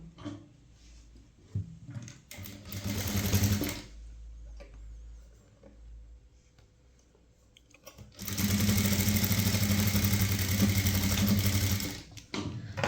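A sewing machine stitches a blouse front dart in two bursts, one short and one long steady run, with quiet pauses between them and no voices.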